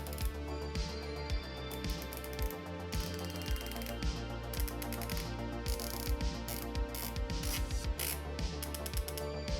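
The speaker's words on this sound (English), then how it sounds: "One of my favorite parts of the Optic is the turret. The turret clicks are incredibly tactile." Rapid, crisp mechanical clicks come from turning the turrets of a Schmidt & Bender PM II 5-25x56 sniper scope, ticking in close, quiet bursts with brief pauses between runs.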